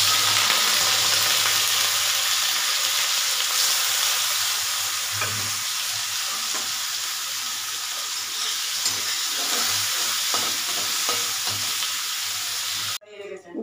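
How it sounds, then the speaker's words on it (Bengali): Prawns frying in hot oil in a wok, a loud constant sizzle and hiss with scattered stirring scrapes, close up, ending abruptly near the end. "লাউ চিংড়ি করার জন্য চিংড়ি মাছটা ভেজে নেবো।"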